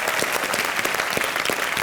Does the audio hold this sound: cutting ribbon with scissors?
no